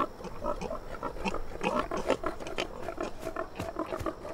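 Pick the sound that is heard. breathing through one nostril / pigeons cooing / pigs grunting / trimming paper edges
pigs grunting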